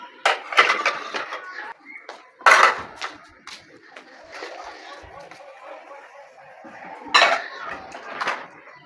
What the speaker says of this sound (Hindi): तो बर्तन हमारे हो रहे हैं वाश, अभी हो जाएंगे।